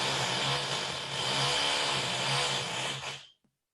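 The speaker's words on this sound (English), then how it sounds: "someone in our flat next to us has just started drilling" A power drill whines loudly and continuously as a neighbour drills in the adjoining flat, its harsh motor noise holding for about three seconds before cutting off abruptly into silence.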